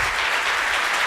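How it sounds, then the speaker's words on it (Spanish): Brief burst of audience applause for an architect after his presentation at a conference, dense and steady clapping from a room full of people. "Vamos a darle un aplauso al arquitecto David Banner"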